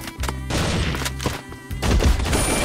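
Rapid automatic assault rifle fire in an Unreal Engine first-person shooter, loud sustained bursts with short pauses between volleys, crashing impacts mixed in.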